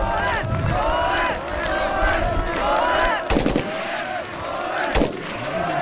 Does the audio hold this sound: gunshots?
yes